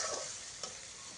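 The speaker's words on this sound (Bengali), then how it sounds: "হলুদ দিয়ে ভালোভাবে নেড়ে চেড়ে নিচ্ছি।" Water lily fry with turmeric being stirred in a pan, a soft scraping stir with a brief clatter partway through over a faint steady sizzle, close and quiet with no talking.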